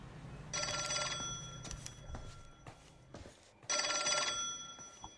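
In the video game L.A. Noire, an old telephone bell rings in two bright metallic bursts separated by a pause, moderately loud, with faint footsteps and thumps in between and no talking.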